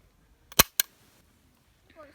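An unloaded hunting gun dry-fires during turkey-hunting practice, giving a sharp, close trigger click quickly followed by a second, softer click, with quiet before and after.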